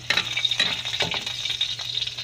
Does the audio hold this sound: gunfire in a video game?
no